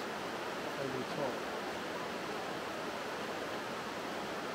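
Steady broadband rush of a river flowing under overhanging trees, constant and fairly close, with no clear breaks or other sounds standing out.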